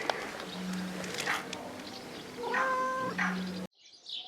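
Free-roaming cats meow outdoors in a few clear calls, one longer harmonic cry in the middle, over a steady low background hum with faint ambient noise.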